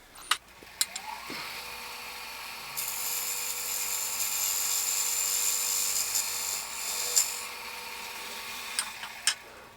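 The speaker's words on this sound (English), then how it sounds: "we're definitely slicing through the wood here" Wood being cut on a lathe with a burnished negative rake scraper, producing a steady high whirring hiss over the spinning workpiece, broken by a few sharp ticks at the start and end.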